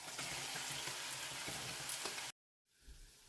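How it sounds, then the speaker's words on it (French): Meat sizzles in a pan with onions and garlic, a soft, steady frying hiss that cuts off abruptly near the end before quieter pan sounds return. "je rajoute ma viande"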